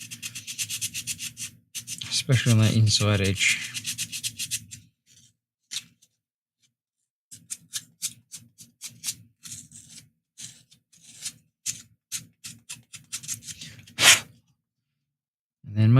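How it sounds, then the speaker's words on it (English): Hand sanding on a piece of woodwork, soft rubbing strokes in bursts alongside a speaking voice, with a few pauses between passes. "what I'm going to do is a little bit more sanding on that bit"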